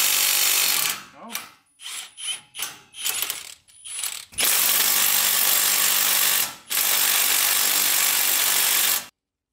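A ratchet works loose a tight brake caliper bolt, with several short, loud clicking bursts and then two long, continuous runs of rapid close ratcheting, without speech.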